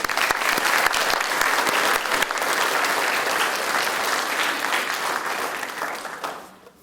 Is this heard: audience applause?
yes